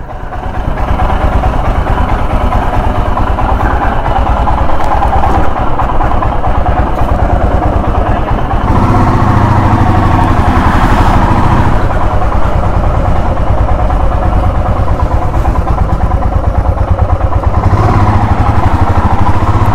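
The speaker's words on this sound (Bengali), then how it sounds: "বাইক ওয়ার্ম আপ হয়ে গেছে" A motorcycle engine idles after warm-up, ahead of a ride from Kolkata toward Siliguri and East Sikkim: a loud, steady low rumble runs unbroken throughout, with a slight swell partway through.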